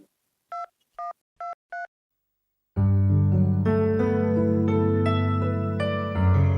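Four short two-tone telephone keypad beeps as a number is dialed, evenly spaced in a quiet room, then loud music abruptly takes over.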